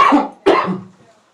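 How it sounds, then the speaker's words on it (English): Two sharp, close coughs in quick succession, the second trailing off into a low rasp. "feel like I have to cough"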